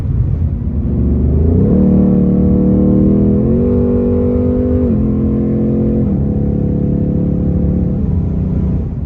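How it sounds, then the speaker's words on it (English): A 2021 Ford Mustang Mach 1 Premium V8 with a 10-speed automatic accelerates hard, its deep engine note rising through several upshifts in a loud, close, continuous pull, with no talking. "rush of acceleration and the feeling of power from the engine, but you get that great sound too"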